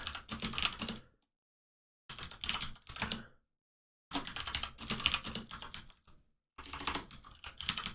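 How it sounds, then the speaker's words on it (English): Typing on a computer keyboard during an online chess broadcast: four separate bursts of dense, fast key clicks, close and clear, with short silent pauses between them. "Let me just type in the chat."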